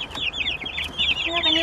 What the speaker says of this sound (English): let's welcome these Lavender Orpingtons to their new temporary home